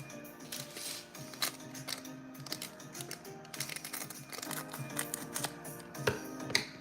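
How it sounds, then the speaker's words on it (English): Scissors cutting open a plastic package up close, a dense run of small rapid snips and crinkly plastic rustles, fairly quiet, with no talk. "I can tear this open, which I can't. So I'm gonna cut this."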